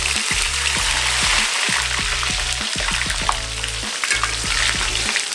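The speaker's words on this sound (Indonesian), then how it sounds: "Sekarang kita goreng dulu potato wedgesnya" Potato wedges fry in hot oil for an English breakfast, making a continuous bubbling sizzle up close with occasional crackles and soft knocks, with no voices.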